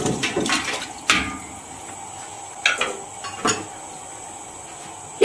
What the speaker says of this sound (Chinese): 这个不锈钢里面桶里面放15斤水，放入我们刚才焯好水的骨头